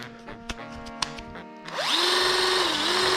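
A power drill mixing clear epoxy for a live edge table: a few quiet clicks and taps, then the drill spins up and runs loud and steady with a high whine that dips slightly in pitch.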